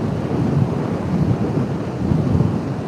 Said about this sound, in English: That's the Irish Sea.